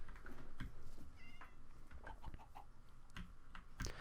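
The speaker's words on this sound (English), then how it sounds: "there's a bunch of house cats" Several house cats in the Minecraft video game meow and mew in short, scattered calls, some higher and drawn out. They sound at moderate distance over soft background game noise.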